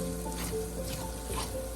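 Chopped garlic and ginger sizzle steadily in a hot pan, a soft continuous crackle with faint stirring scrapes, fairly quiet and close, with no talking.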